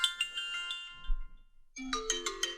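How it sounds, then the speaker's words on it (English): An old-fashioned phone ringtone plays twice, with a short, quiet gap of low thumping between the two bursts of bright, repeating electronic tones. "A fucking boomer ringtone."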